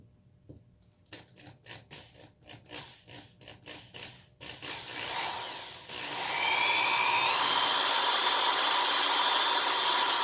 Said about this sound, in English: It's a precision drill.